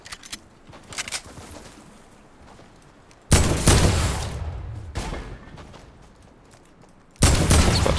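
Video game gunfire comes in two heavy bursts of loud, sustained shots, separated by quieter stretches with scattered distant pops and faint background noise.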